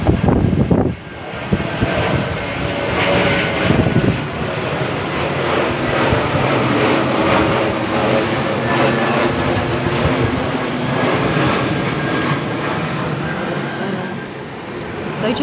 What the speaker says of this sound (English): It's only a small plane, but it's coming over.